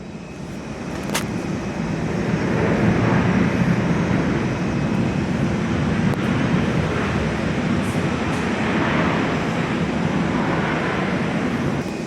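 A Virgin Australia Boeing 737-800 airliner lands at Perth Airport, its engines a steady broad roar heard from an indoor viewing platform, loud and sustained throughout with no talking.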